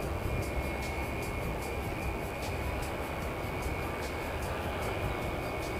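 A fixed-wing plane on the Christchurch to Dunedin flight passes at the airport, a loud, steady broadband jet roar that holds evenly throughout with no voices.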